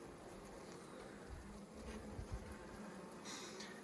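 A honey bee colony, queenless for about a day, buzzing around a queen cage with a queen being introduced; a steady close insect hum with occasional louder swells, no talking.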